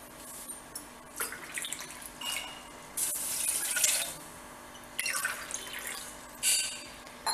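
Water runs from a tap in bursts into a pot, splashing and trickling with short pauses between pours, fairly close.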